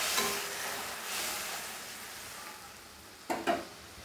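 Spiced masala sizzles in a pan as water goes in, a soft steady frying hiss that settles low before two short, sharper bursts of sizzle near the end.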